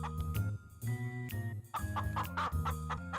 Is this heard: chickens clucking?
yes